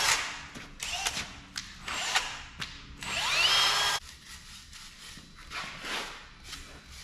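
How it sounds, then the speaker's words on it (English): Wire brush scrubbing over chainsaw-carved, burnt wooden bear figures, with rough bursts of scratchy brushing and a few knocks, close and fairly loud. "wire brush and brush them all off"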